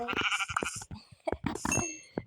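Sheep bleating in the Minecraft video game, several short bleats one after another with brief gaps, close and fairly loud, alone without talk.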